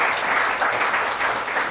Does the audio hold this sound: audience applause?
yes